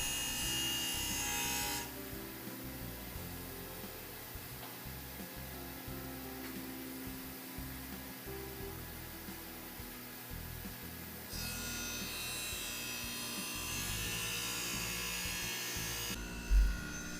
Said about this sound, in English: turn the front face grinding motor on and infeed it until it begins to grind.